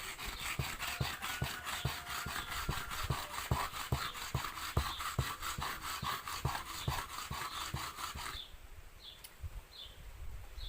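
A natural sharpening stone is rubbed back and forth on its edge to flatten it, a gritty rasping scrape repeated in a steady rhythm of strokes, close and loud, then stopping into quieter handling.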